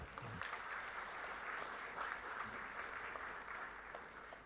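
Audience applause at a women business leaders event in Maharashtra, a steady even wash of clapping held at constant loudness throughout with no voices over it.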